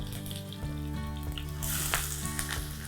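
Curry leaves and mustard seeds crackle and sizzle in hot oil for a Tamil-style egg masala, a steady close frying hiss with sharp pops and spits, no talking.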